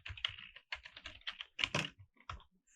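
Steady keystrokes on a computer keyboard while code for a Bootstrap tooltip is entered, clear and close with short bursts and pauses, no voice.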